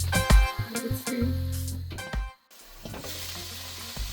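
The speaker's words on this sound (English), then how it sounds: "we're going to add a little oil now for frying" Chicken sizzles and crackles in oil in a pan with clattering stirring and a few metallic knocks, a brief pause, then frying resumes steadily.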